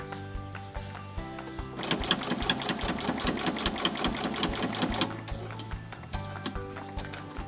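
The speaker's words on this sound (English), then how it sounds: "I'm just going to start down here, stitch all the way up, turn the whole thing around, and turn around and come all the way back down." A sewing machine stitches a wallet pocket close by, giving a fast, steady mechanical chatter that stops briefly and then resumes in short runs.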